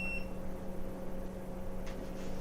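A steady electronic beeping tone from a kitchen timer, continuous over a constant background hum, with a faint clatter near the end.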